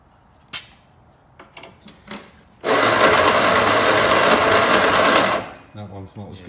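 An MG Midget engine with a stuck valve turns over on the starter, a loud, steady mechanical churn lasting close to three seconds, with quieter handling noises and brief talk before and after.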